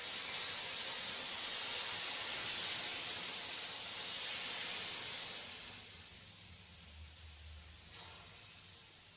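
Dosa batter spread along the edges of a hot tawa over a high flame gives off a loud, steady sizzling hiss that slowly fades, then briefly swells again near the end.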